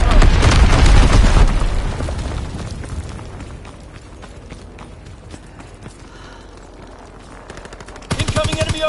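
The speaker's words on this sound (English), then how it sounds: "Incoming enemy artillery! Get to cover! Enemy bomb incoming!" Machine-gun fire and heavy booming explosions from enemy artillery and bombs in a PS4 war video game, with dense loud bursts at first, a quieter stretch in the middle, then rapid gunfire returning at the end.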